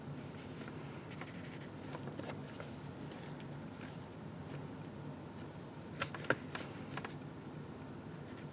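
A pencil draws on paper in soft, faint scratching strokes that continue steadily, with a few sharper marks near the end. The drawing is of a Burmilla cat. No one speaks.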